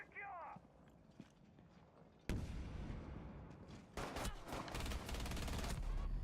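Video game gunfire from an opponent hip-firing at the player, heard as loud, dense bursts of rapid automatic shots that start abruptly and keep up over busy in-game noise.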